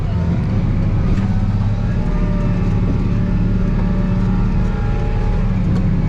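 A John Deere 8520 tractor's engine runs steadily while the tractor backs up in a weedy field during harrowing, a loud continuous low rumble with no clear rise in revs.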